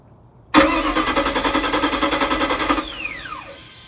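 A small engine cranks and catches after the fuel pump is energized, running briefly in a steady pulsing chug before cutting out with a falling whine as it dies, loud and close with no talk.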